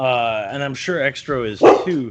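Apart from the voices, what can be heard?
dogs yipping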